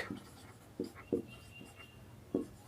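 Chalk or marker writing on a classroom board during an English tense lesson: a few short, separate scratchy strokes spaced out over a quiet room, close and moderately loud, with no talking over them.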